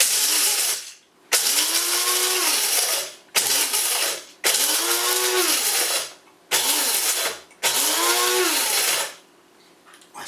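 Keurig coffee machine whirring loudly in repeated bursts after its button is pushed, several pulses of a rising-and-falling motor drone separated by short pauses, close and alone.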